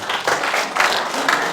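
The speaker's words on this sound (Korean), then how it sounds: "큰 박수로 맞이해주시기 바랍니다" Short round of audience applause welcoming a lecturer at a Confucian academy class, dense clapping in a few surges, fairly close and loud.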